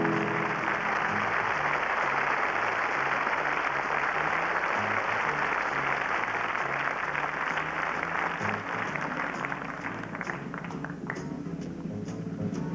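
Audience applause at the Miss France 1994 pageant, a steady, fairly even wash of clapping from a large hall crowd that continues throughout at moderate volume.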